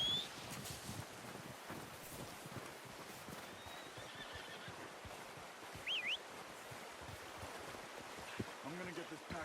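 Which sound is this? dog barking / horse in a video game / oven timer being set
horse in a video game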